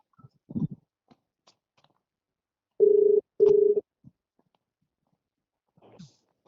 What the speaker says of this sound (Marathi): नितीनला कॉन्फरन्सला घ्या मी बोलतो दोन मिनिट फक्त नितीनला फोनवर घ्या